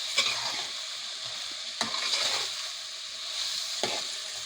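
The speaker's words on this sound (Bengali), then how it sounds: "এখন পানি দিয়ে দিব।" Beans and potatoes sizzle loudly in a hot pan as water goes in, a constant close hiss broken by a few sharp stirring knocks.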